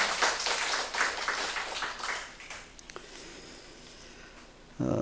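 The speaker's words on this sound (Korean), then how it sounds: "하나님께 영광의 박수를 올려드립시다" A church congregation claps during a Korean Sunday worship service, a dense burst of many hands that fades out over a few seconds before a louder sound rises at the end.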